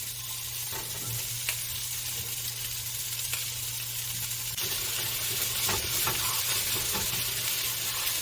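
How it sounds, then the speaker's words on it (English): Steady, dense sizzling of beef frying in a high-heat wok, loud and continuous, with occasional scraping stirs and small pops throughout. "High heated wok, I will add in my beef. I love that sizzle."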